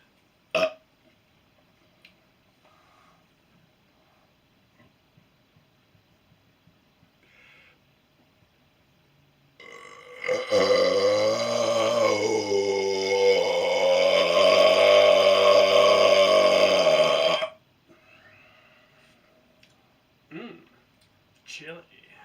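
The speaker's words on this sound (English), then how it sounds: "I like it when I have a yummy last meal that burps back up." A person lets out one long, loud, drawn-out burp after a meal of chili, lasting several seconds and rising and wavering in pitch, framed by quiet outdoor snowfall ambience with a few faint knocks.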